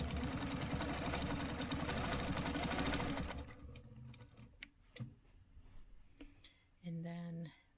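A sewing machine stitches a quilt line in a loud, rapid, steady run for about three seconds, then stops, leaving quieter handling sounds and a person talking.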